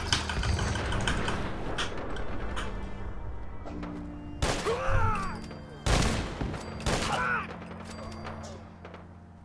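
Sharp, loud rifle shots from a two-shot rifle in the Fallout 4 video game, several separate cracks spaced a second or two apart over a low engine-like background hum.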